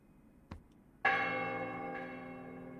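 A bell tower bell in the video game The Silent Swan, with a soft knock and then one loud, resonant strike that rings on and slowly decays.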